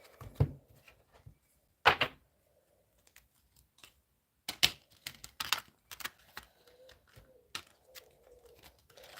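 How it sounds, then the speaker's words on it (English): Several separate bursts of tarot cards being riffled and shuffled, crisp papery flutters with quiet pauses between, close and fairly soft. "Okay, a few shuffles."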